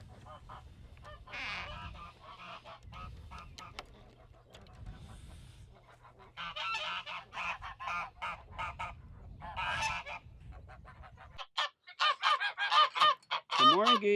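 A flock of farm geese honks in loud, irregular bursts, first over a low steady hum and then alone, the sharp calls crowding together toward the end.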